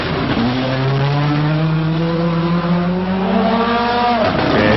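Carlos Sainz's rally car at speed on a special stage of the 1997 Rally Formula Oviedo: a loud, close engine holds a steady rising drone for several seconds, with tyre noise, then cuts off abruptly near the end.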